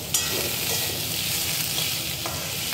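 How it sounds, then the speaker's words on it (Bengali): Green chilies frying in a pan sizzle steadily while being stirred, a continuous close hiss with faint scraping touches throughout. "এখন আমি ভালো করে এটাকে নেড়ে ভেজে দেব।"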